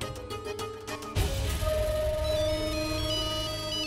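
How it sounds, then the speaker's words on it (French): A mobile phone rings with a tonal ringtone melody, steady and fairly loud, starting after a short burst of other sound and continuing alone. "Chef, mon portable a sonné."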